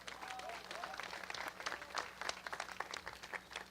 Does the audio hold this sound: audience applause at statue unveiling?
yes